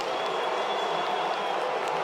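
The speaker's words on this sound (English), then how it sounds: "The Filipino crowd boos the Greeks" Large Filipino basketball crowd booing the Greek team in an arena, a sustained, dense roar of many voices filling the space without letup, with a commentator's voice faintly mixed in.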